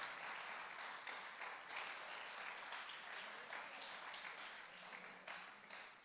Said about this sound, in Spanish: Si va a aplaudirle al Señor, apláudale fuerte